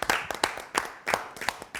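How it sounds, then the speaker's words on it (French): A French television studio audience applauds in short, uneven bursts of clapping at moderate loudness. No one speaks over it. "En tout cas, on vous applaudit."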